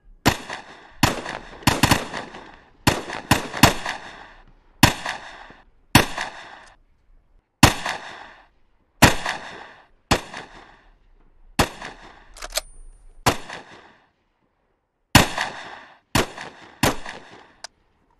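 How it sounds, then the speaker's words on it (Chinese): Sharp, loud gunshots ring out in a Chinese TV military drama about special forces soldiers, firing singly and in quick pairs with irregular gaps, each crack trailing a short echo, with no voices. "打开保险，自行射击。"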